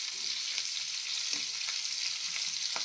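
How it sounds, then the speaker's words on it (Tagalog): Steady crackling sizzle of dried salted fish frying in hot oil, continuous and close, with a few faint clinks of a utensil. "At nagpiprito ako ng tuyo."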